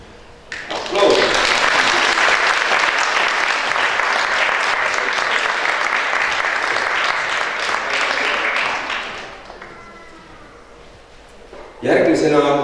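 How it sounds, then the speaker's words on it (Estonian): Audience applause at an award ceremony during a lace dance competition, a loud sustained burst of clapping lasting about eight seconds, then fading, with a brief voice and another short burst of clapping at the end. "Aplaus."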